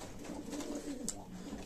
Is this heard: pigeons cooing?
yes